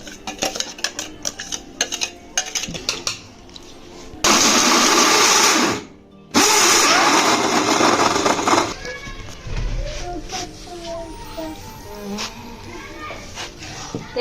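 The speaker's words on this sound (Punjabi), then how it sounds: "ਬਦਾਮ ਵਗੈਰਾ ਸਾਰਾ ਕੁਝ ਗ੍ਰਾਈਂਡ ਕਰੀ ਜਾਣਾ ਬਾਰੀ ਬਾਰੀ" An electric kitchen grinder whirs loudly while grinding almonds and other panjeeri ingredients, running in two bursts with a short pause between, after clattering dishes and utensils.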